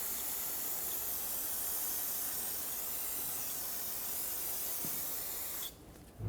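Brake parts cleaner sprays in a loud, continuous hiss around the rear brake hose area of a 2000-2005 Ford Excursion, held for several seconds before stopping abruptly.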